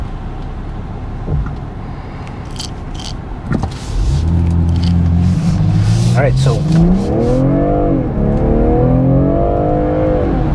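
A 2021 BMW M340i sports sedan accelerating hard, its engine note climbing steadily with the wheels briefly spinning, loud and close throughout, with someone talking over it at the start.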